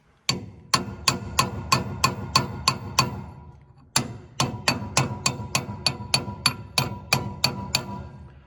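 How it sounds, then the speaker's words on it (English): A hammer beats on a punch to drive a hydraulic sheave bearing onto a Gleaner R72 combine, sharp metallic blows in two steady runs of about a dozen each, with a brief pause between them, loud and close. "I just keep jumping back and forth with the hammer and punch"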